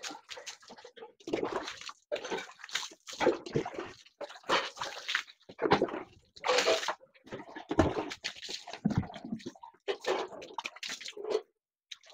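A cow is washed down with water near the end of its bath, with intermittent splashes and pours in bursts, close by.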